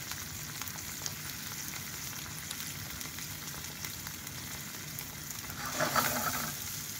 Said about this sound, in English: And let's saute it for a couple of minutes.